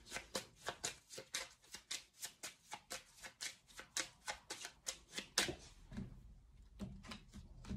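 Cartomancy cards being laid out and shuffled on a table, a fast regular series of crisp papery slaps and riffles, close and clear with no talking.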